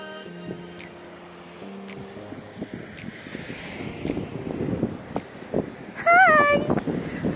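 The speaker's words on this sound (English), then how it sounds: "Oh, look at the waves!" Wind rumbles against the microphone as waves wash ashore at Grenen, the northern tip of Skagen where two seas meet, a steady roar under scattered voices and a short whistled tone near the end.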